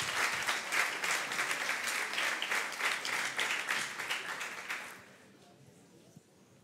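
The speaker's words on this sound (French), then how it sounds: "que vous pouvez applaudir" Audience applause at a university thesis competition ceremony, steady dense clapping from a full room for about five seconds, then fading quickly into quiet room tone.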